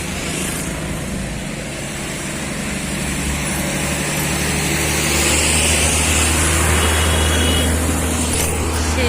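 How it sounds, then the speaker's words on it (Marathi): Heavy road traffic on a hilly route, with cars and trucks rumbling past in a steady, loud wash of engine drone and tyre noise that swells slightly toward the end. "बघा हे गाड्या तर आवाजानं काही सुसू देत नाहीये"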